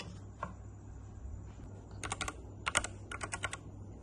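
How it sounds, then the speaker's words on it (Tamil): Keys clacking on a computer keyboard while entering a web address in Chrome during a home server setup from an old PC, with a single stray tap, a pause, then several short, close bursts of rapid keystrokes in a quiet room. "க்ரோம் திறந்தோடனே நீங்கள் வந்து ட்ரூனஸ் அப்படின்னு வந்து டைப் பண்ணணும்"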